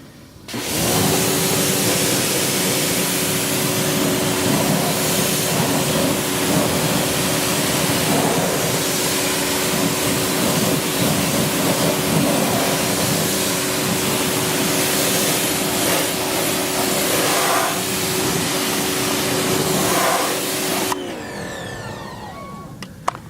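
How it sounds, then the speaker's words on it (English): Pressure washer spray rinsing the wheels of a 2018 Honda Civic hatchback, a steady loud hiss of water that runs continuously for about twenty seconds with a faint tonal whine beneath, then cuts off abruptly. "And then we rinse off with our pressure washer."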